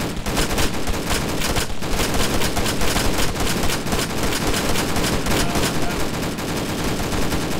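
Dense automatic gunfire rattles nonstop during an Arma 3 military firefight, with overlapping machine-gun bursts and rifle shots crackling loud and close.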